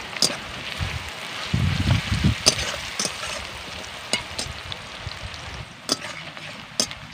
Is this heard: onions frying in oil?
yes